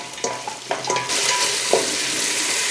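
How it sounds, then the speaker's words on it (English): Onions and spices hit hot oil in a pot, with a few clinks of a utensil against the pot before a steady, loud sizzle and frying hiss takes over and continues. "Once the oil's a bit hot, add in all your onions and your spices."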